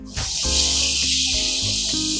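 Ackee is added to a hot pan of sautéed vegetables with Scotch bonnet peppers and bursts into a loud, continuous close-up sizzle and hiss that holds steady, with faint background tones underneath and no talk.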